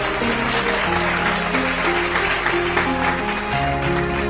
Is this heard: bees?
no